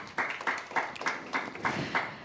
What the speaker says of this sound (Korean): 발제해 주신 두 분께 다시 한번 큰 박수 부탁드리겠습니다.